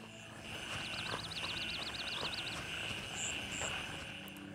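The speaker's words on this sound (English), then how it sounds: "you're approaching the wooded area and then you start hearing those obnoxious frogs" Frogs croaking near woods in the video game Gray Zone Warfare, a faint rapid warbling trill of calls over a low ambient hum, with a couple of brief chirps afterward.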